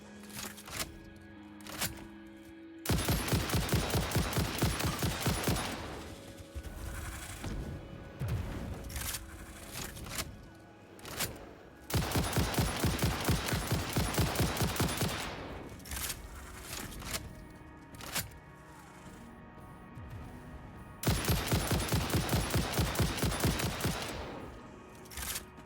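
Weapon fire in the factory-building video game Satisfactory: loud sustained bursts of rapid automatic gunfire in three long volleys separated by short pauses, close and dominant, with no talking.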